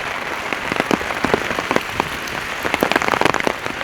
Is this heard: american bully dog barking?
no